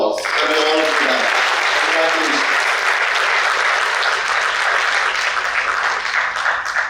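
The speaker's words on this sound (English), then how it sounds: "The entire batch deserves a pat on the back and a big round of applause." At a golden reunion of the 1971 batch, a roomful of people breaks into a big round of applause, loud and continuous. A voice briefly rises over the start, then the clapping carries on alone, easing slightly toward the end.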